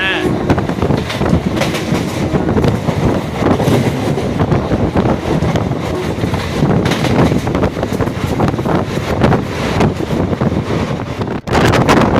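Steady rumble of a moving train on rails nearing Tiruchirappalli Town station, with broadband rolling noise and wind buffeting, continuous throughout, with a voice talking over it.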